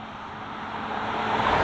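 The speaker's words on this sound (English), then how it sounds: "We've hit the road in the Cayenne," A 2020 Porsche Cayenne Coupe with a 3-litre turbocharged engine and sports exhaust driving on the road, a steady broadband rumble and road roar heard from inside that builds slightly.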